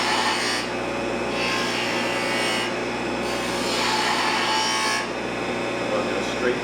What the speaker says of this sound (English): That's a straight cut, which is what I'm doing now.